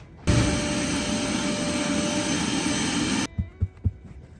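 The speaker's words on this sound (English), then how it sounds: "let's get the vacuum and clean these now." A vacuum cleaner roars loud and steady for about three seconds while cleaning car floor mats from a Carbon Supra, then cuts off, followed by a few soft thumps.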